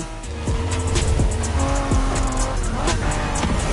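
A Honda NSX sports car engine revs and shifts through gears at speed, with tires squealing in a racing video game, loud and continuous.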